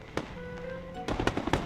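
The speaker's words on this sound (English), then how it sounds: "What's that sound? Fireworks? That's definitely fireworks." Fireworks burst in the Infinity Nikki video game, a faint early pop followed by a quick cluster of several sharp crackling bangs near the end, over a quiet musical backdrop.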